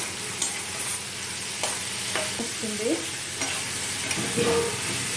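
Fenugreek leaves frying for sambar sizzle steadily in the pan while a spoon scrapes and stirs with a few sharp knocks and metallic squeaks, close and continuous.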